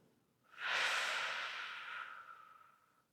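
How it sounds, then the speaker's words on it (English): A single long, breathy exhale through the mouth during a closing yoga breath, swelling quickly, then tapering slowly over about two and a half seconds, close and soft in an otherwise quiet room. "A big exhale through the mouth."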